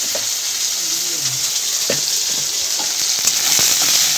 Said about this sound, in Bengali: দেখো 5 ফোড়ন দিয়ে টমেটো দিয়ে দিলাম